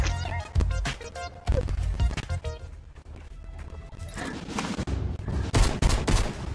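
Rapid bursts of gunfire in the video game Fortnite crackle and crash loudly in quick volleys, with sharp repeated shots and impacts running throughout.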